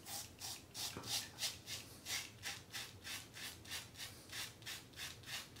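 A cartridge razor scrapes through a beard in quick, rhythmic strokes, a close, soft, raspy sound repeating about three times per second.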